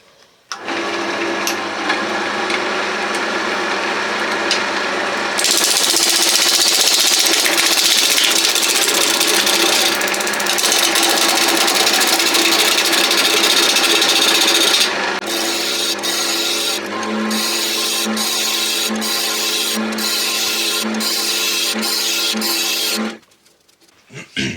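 Wood lathe spinning above 1000 rpm while a roughing gouge roughs down a blank for a pencil pot, a loud continuous whirring scrape that runs steadily, then breaks into rhythmic cutting pulses before stopping near the end.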